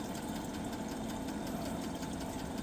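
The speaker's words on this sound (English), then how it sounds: "is the water pump going to pump?" A van's water pump runs continuously, a steady droning buzz with a fine rapid pulsing texture, close and even in level throughout, with no voices.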